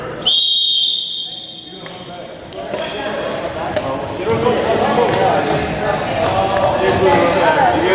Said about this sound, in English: When I blow the whistle, you'll serve.